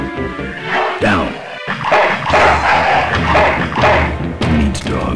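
A dog barks and yips in the 1995 LucasArts MS-DOS adventure game Full Throttle, loud repeated bow-wows mixed with thumps and game sound effects over a busy background.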